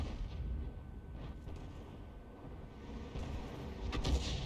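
An M40 artillery shell lands as a near miss near an E50 in a tank battle game, heard as a low, muffled, distant rumbling boom with a brief sharper crack near the end, no talk.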